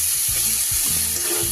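Spice paste with chopped tomato and salt frying in oil in a pan, a steady close sizzle with soft bubbling and stirring sounds throughout, no voices.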